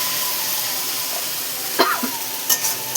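Water spinach (kalmi greens) frying in a pan, a steady close sizzle with a few brief scrapes and clinks of stirring near the end, no talk.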